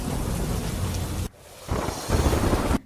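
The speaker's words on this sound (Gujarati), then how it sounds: "થરાદમાં ધોધમાર વરસાદે શરૂઆત થઈ છે અને પાણી ભરાવાની પણ શરૂઆત થઈ છે" Heavy monsoon rain pours down steadily in Tharad, Gujarat, in a dense roar, with a sudden brief drop before the downpour surges back, loud and close.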